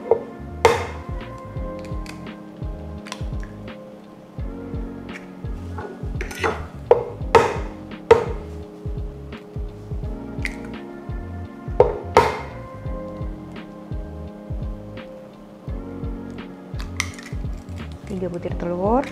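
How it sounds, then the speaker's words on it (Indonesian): Three eggs cracked into a bowl in a home kitchen, a series of sharp taps and clinks against the bowl at irregular intervals, close and clear, with some light utensil handling in between. "saya butuh mangkok, saya akan pecahkan 3 butir telur ya"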